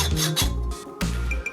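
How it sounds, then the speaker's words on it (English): Standard hacksaw cutting an aluminum block held by hand without a vise: three broad, raspy strokes repeat in a steady back-and-forth rhythm, loud and close, with no talk. "The aluminum block, and this is just a standard hacksaw."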